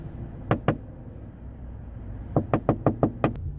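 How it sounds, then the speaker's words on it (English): Knuckles rapping on a car window: two sharp knocks, a pause, then a quicker burst of about seven knocks, close and loud against a quiet background. "I knocked on the window because the thing goes off whenever it reaches the like correct PSI"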